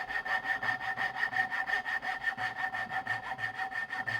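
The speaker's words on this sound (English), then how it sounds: "I'm just doing it quickly off my bandsaw" A bandsaw cuts slowly through wood while a wooden toolbox is being built, making a steady close rasp with an even, quick pulsing rhythm throughout.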